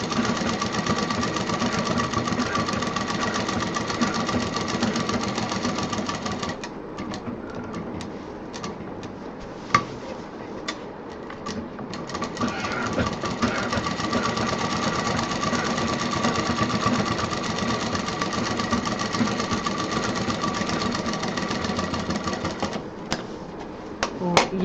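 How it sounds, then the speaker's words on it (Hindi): A sewing machine runs almost continuously, stitching a belt onto a handmade bag with a steady mechanical whir, interrupted by a brief slowdown and a short pause near the end. "बेल्ट को पहले ही मजबूती से जोड़ देना है 3-4 सिलाई के साथ।"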